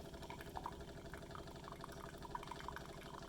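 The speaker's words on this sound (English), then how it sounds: "this spout right here will start shooting out some hot water" A De'Longhi La Specialista espresso machine hums as hot water streams from its spout, a soft continuous trickle with faint gurgling drips over a steady mechanical drone, close and quiet.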